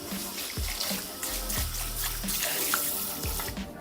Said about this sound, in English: You want to make sure you rinse it really well.